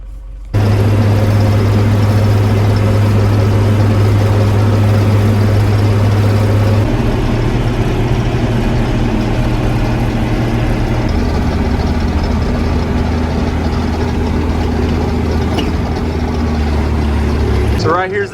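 A tractor engine idles steadily close by on a farm, a constant low rumble that shifts pitch slightly partway through as it runs before hooking up a box blade; a voice talks over it.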